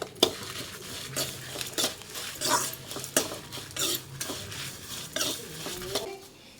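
Dried Guntur chillies and other dry spices are stirred over medium flame in a pan, with repeated close scraping and clinking of a spoon against metal and a faint sizzle underneath.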